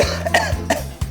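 Several sharp coughs from someone who has just sipped hot ginseng and bellflower tea, arriving in separate bursts about a third of a second apart, close and fairly loud, with no talking.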